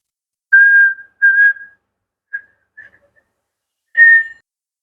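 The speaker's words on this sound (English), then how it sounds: "don't whistle, it's disturbing" A person whistles nearby in short, clear tonal notes: two sustained phrases, a few faint brief chirps, then one more strong note, each separated by silence.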